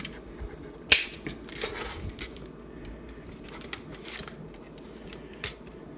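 Plastic energy blades on the arms of a Maketoys Galaxy Meteor toy figure flip out with a sharp close click, followed by a few softer ratcheting clicks as the joints are adjusted.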